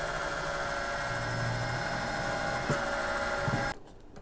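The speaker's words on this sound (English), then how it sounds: "Drilling a 5/32 hole first" Drill boring a 5/32 inch hole for a tensegrity rocket, a steady whining motor run at close range for several seconds that stops abruptly near the end, with no talking.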